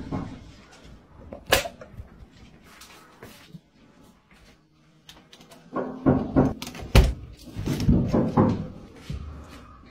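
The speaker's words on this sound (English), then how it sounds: "she hears what sounds like knocking at the door" Knocking on a door at night: a few soft raps, then a quiet pause, then a louder cluster of irregular knocks and thuds close by, with faint murmuring underneath.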